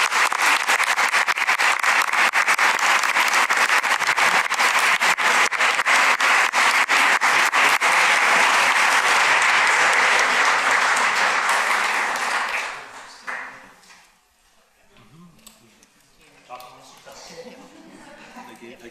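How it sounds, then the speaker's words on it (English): A board meeting audience applauds award recipients with loud, steady clapping for about twelve seconds. The clapping then quickly dies away into quieter room sounds, scattered movement and a few voices. "And please join me in one more round of applause."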